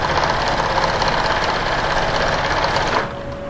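Sewing machine top stitching a ruler pocket on a cutting table organizer, a fast, steady mechanical whirr close by that runs continuously and then cuts off near the end.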